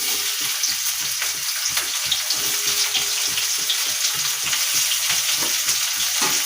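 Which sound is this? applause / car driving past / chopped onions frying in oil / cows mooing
chopped onions frying in oil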